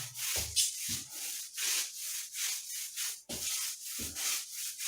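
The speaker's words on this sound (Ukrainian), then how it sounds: "Цей клей треба не тільки зняти, а якось розтерти, щоб він рівномірно в шві лежав." Stiff, worn sponge rubbing thick tile glue into a bathroom seam while coving is fitted, a steady scrubbing swish in repeated close strokes with a few soft knocks, no talking.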